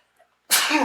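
A single sharp, loud sneeze bursts out suddenly after a quiet moment and trails off briefly, indoors in a basement.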